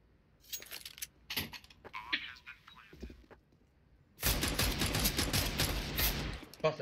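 A rapid burst of automatic gunfire in Counter-Strike: Global Offensive erupts loudly after several seconds of quiet, whispered team chatter and scattered game noises, then rattles on continuously to the end.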